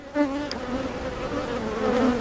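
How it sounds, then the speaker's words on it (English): Honey bees buzz loudly and continuously at an opened hive during an inspection, a dense close drone with a few bees whining past near the ear. "There's currently a bee"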